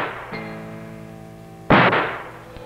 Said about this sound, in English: there were gunshots.